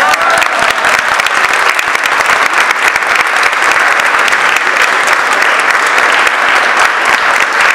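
Loud, dense applause from an audience at a municipal symphony orchestra event celebrating an instrument donation, a continuous roar of many hands clapping that holds steady and close throughout.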